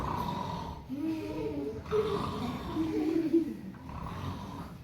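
A voice imitates snoring with slow, drawn-out nasal snorts and breathy rasps, repeated a few times at close range.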